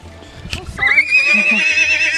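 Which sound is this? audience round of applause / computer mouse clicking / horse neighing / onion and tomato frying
horse neighing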